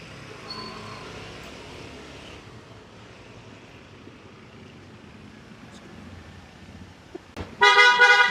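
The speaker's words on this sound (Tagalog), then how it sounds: "Busina check, busina check." Quiet idling background, then a loud car horn blares abruptly near the end, a sustained honk from close by.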